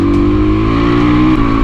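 A motorcycle engine hums loud and close while riding along a muddy route, a steady droning note that dips slightly once before holding on.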